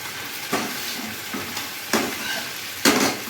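A spoon scraping and stirring a dry mixed sabzi of taro, eggplant, onion, potato and chilies in a hot pan, with several distinct scrapes over a soft, steady sizzle.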